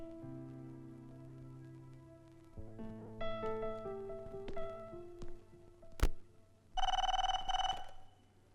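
A telephone bell rings in a short burst near the end, loud and close, after a stretch of music-like tones in a scene about a boxing match.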